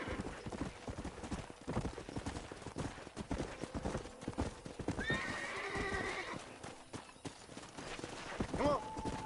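Horse hooves clip-clop in a steady rhythm in the Red Dead Redemption video game, joined later by a loud, clear neigh.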